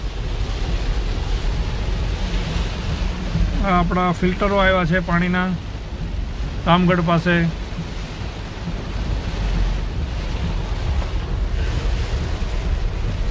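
Heavy rainfall outdoors near a water filter station by Ramgarh in Ranavav taluka, a loud continuous hiss of downpour throughout, with someone speaking briefly over it in two short bursts.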